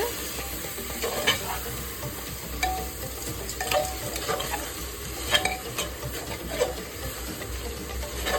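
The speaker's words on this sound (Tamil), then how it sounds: "தக்காளி 3 தக்காளி வெட்டி வச்சிருந்தேன், அதையும் சேர்த்துட்டேன். சேர்த்து நல்லா வதக்கி விட்டு" Tomatoes sautéing in a pan for biryani, with a steady close sizzle and repeated stirring scrapes throughout, no talking.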